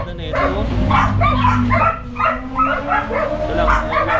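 An exotic-type dog with a small ear wound yips and whimpers in short, close, repeated bursts while people talk nearby.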